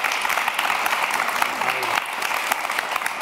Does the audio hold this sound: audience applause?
yes